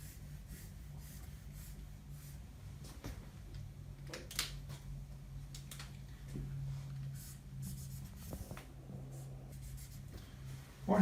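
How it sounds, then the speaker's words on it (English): Marker strokes on a board while sketching composite fibers, producing faint, intermittent scratchy squeaks and taps over a steady low hum, close but quiet with no speech. "I'll draw them out here."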